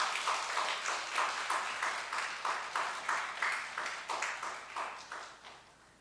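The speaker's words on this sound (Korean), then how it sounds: "우리 박수하겠습니다" A church congregation claps together in a steady, rhythmic beat, each clap distinct and moderately loud, slowly tapering toward the end.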